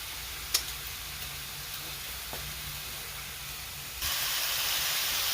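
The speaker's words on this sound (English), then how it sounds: "What I'm going to do now is take my lamb chops and put them back inside of this pan." Pan-seared lamb chops going back into a hot pan give a steady close hiss of sizzling, stepping up louder near the end, with a light clink early on.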